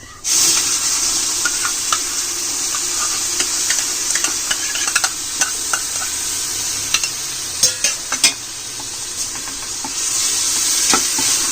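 Biryani powder, turmeric and curd stirred in a hot pan for Hyderabadi egg biryani, a constant close sizzle under low flame with repeated scraping clicks of the spoon, a few sharper taps near the end.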